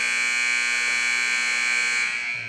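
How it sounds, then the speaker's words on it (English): A basketball game buzzer at a school gym sounds one loud, steady electronic blare that holds for about two seconds, then cuts off with a faint echo. "I'll let the buzzer do its thing."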